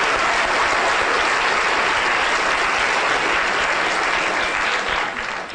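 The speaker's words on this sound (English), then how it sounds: "Let's give a round of applause to Charlotte." A lecture audience gives a steady, loud round of applause for Charlotte during a 2011 brain talk, dense and continuous, easing off slightly at the very end.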